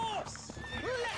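Knights' horses riding in the Stronghold Definitive strategy game, with clip-clop hoofbeats and a whinny set against game sounds, while someone speaks over them.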